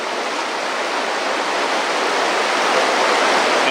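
The Nitinat River rushes past in a steady, loud broadband roar of flowing water, heard close with no voices.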